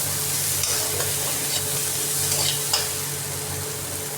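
Tomatoes frying in a pan for a bitter gourd curry, a loud steady sizzle with a few soft stirring scrapes close by and no talking.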